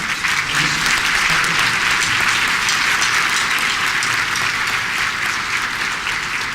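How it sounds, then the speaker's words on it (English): Loud, dense applause from a large audience at a technology luncheon, continuous and steady across the whole stretch with no voices over it. "just have you give a big round of applause"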